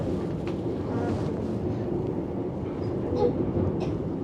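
Seoul metro train running over a bridge across the Han River, its steady low rumble and rolling hiss continuous throughout, recorded from inside the carriage with no talk.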